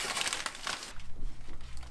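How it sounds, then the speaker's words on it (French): Masking paper is peeled off a 1968 Camaro SS after test painting, crinkling and crumpling close by in a continuous rustle, with a brief tearing peel at the start. "on va lever tout le papier qu'on a mis en vrac"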